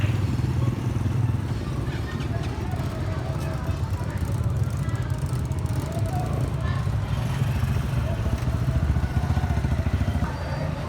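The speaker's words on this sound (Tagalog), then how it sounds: "Motor jeep." Motor jeep engine idling or running at a rural terminal in Monte Vista, Davao de Oro, a steady low rumbling putter throughout, with faint voices in the background.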